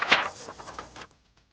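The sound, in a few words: page turn signal sound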